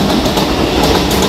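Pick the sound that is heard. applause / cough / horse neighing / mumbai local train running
mumbai local train running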